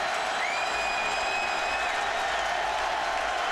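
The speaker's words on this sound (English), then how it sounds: "listen to the Clemson faithful. They stand and cheer for that defense" Clemson football fans in a stadium stand and cheer for their defense, a dense, steady crowd roar with distant whistles and whoops rising above it.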